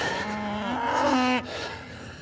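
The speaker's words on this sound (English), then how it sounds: "That's just cattle." Cattle moo near a farm gateway being stoned up, one long, loud, low call rising in pitch and then cutting off, with faint outdoor ambience after.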